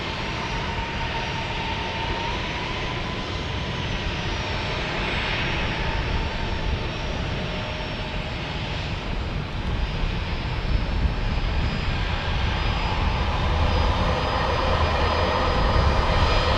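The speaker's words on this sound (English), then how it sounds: "United Airlines taking the runway now" A United Airlines airliner takes the runway at San Diego airport, its jet engines giving a steady, loud roar that holds throughout and swells slightly toward the end, with no talk.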